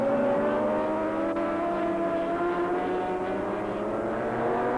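Superbikes race at Oran Park during the 1985 SBK Round 7 event, among them an 860cc Honda Superbike. A steady, loud engine drone holds throughout with no break.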